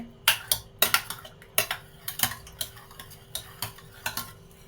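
A spoon scrapes and mashes cooked mixed dal in a pot, about a dozen sharp metallic clinks and scrapes in an uneven rhythm, close and fairly quiet, with no talking.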